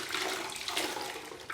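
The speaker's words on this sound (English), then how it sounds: "And now we rinse the sponge out." A grout sponge is rinsed in a bucket of water, giving a soft, steady splashing and sloshing hiss that is fairly faint and close, with no talking.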